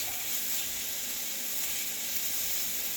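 Sausage links cook in a hot pan with a steady, close sizzling hiss that never lets up, no talking over it.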